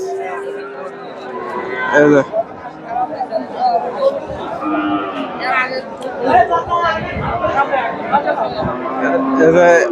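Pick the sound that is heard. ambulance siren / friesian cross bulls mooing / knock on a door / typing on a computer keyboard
friesian cross bulls mooing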